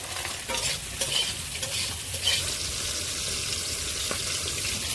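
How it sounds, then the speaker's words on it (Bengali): Ground spice paste fries in a pan with a constant bright sizzle and a few soft stirring scrapes early on, close and steady throughout. "মশলাটাও ভাজা হয়ে গেছে"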